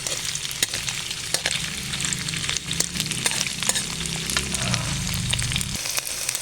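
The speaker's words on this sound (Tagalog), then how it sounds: "So, iprito muna natin siya." Tofu pieces frying in a pan until browning, ahead of kangkong and oyster sauce, with a loud continuous sizzle and crackle close by, punctuated by frequent spatula scrapes and taps, without any talking.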